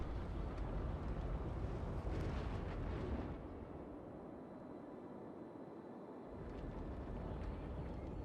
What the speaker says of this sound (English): Earthquake is still going.